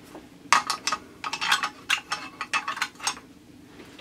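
A homemade third-hand soldering clamp fitted with tweezers is shifted and adjusted, giving close, irregular metallic clicks and clunks, a little like a ratchet.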